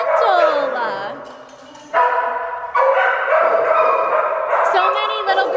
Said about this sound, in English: So many little girl doggies.